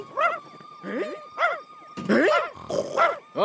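A cartoon dog from a Garfield episode barks and yelps in several sharp, loud bursts over about three seconds, with no voices over it.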